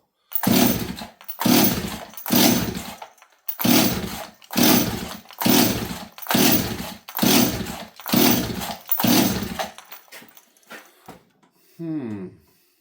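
A Stihl 026 chainsaw with a freshly repaired spark plug wire, on full choke, pulled over repeatedly: about nine loud rhythmic pull-starter bursts, each under a second, then a brief sputter as it fails to run, up close.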